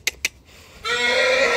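A horse stabled at a 4-H county show gives a loud, close whinny that rises and holds, after two short sharp knocks.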